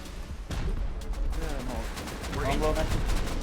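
Gunfire in the survival game Rust during an attack on a fortress, dense shots cracking near and around, continuous and loud, with shouting voices over parts of it.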